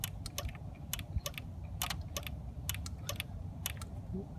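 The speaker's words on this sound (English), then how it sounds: "I can hear this relay engage" Faint, irregular relay clicks from the ignition of a Toro Wheel Horse 270H tractor as the key is turned, scattered sharp ticks over a low background hum, with no talking.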